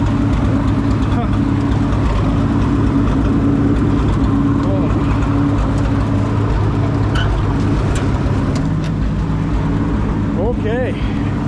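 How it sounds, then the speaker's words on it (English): A running tractor engine idles steadily throughout at close range, with a constant low rumble and brief bits of faint speech near the end. "Running and driving tractor."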